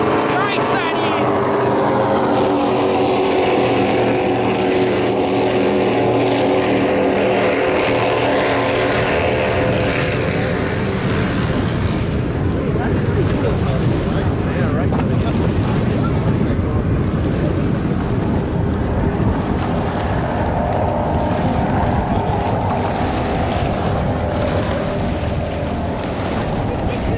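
Offshore powerboats racing side by side on Lake Macquarie, their engines a sustained loud roar that swells and drones across the water, mixed with wind and wave noise throughout.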